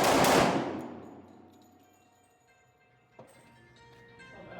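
A single loud 10mm pistol shot with hand-loaded defensive rounds at a range, from a Sig P220 Legion, S&W M&P or Springfield XDM Elite, its blast ringing out and decaying, followed by a small metallic clink.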